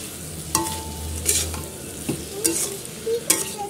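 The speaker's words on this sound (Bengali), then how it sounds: "ওখানে জিরে, হলুদ গুঁড়ো, লবণ, লঙ্কা গুঁড়ো আর ধনে জিরে গুঁড়ো দিয়ে কষিয়ে নিচ্ছি ভালো করে" Tomato and fish roe are stir-fried with cumin, turmeric, salt, chili powder and coriander-cumin powder in a pan. A spatula scrapes in repeated sharp strokes over a soft, steady sizzle, close by with no talking.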